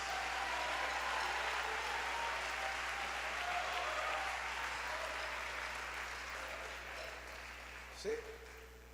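A church audience applauds in a steady wash of clapping that gradually thins out, with a voice breaking in briefly near the end.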